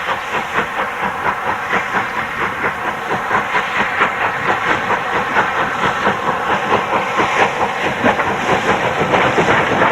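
A steam locomotive thunders past on the West Somerset Railway with loud, rapid rhythmic chuffing and hissing steam, wheels clattering over the rails, building in intensity.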